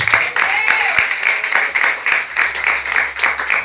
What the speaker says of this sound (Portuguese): Aplauda Ele nesta noite.